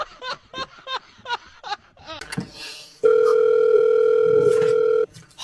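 A telephone dial tone sounds as a steady continuous tone for about two seconds, clear and fairly loud, after a stretch of quick chattering voices and laughter.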